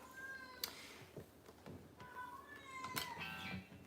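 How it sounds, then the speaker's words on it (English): A pet cat meows loudly and insistently indoors, several drawn-out calls in a row, fairly close, with faint background noise and no talking. "It's my cat going nuts there."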